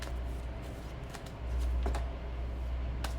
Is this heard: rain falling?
no